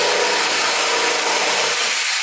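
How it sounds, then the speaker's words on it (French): A jigsaw cuts through wood with a steady, dense buzzing rasp, loud and close, continuous throughout without any talk. "la scie sauteuse coupe"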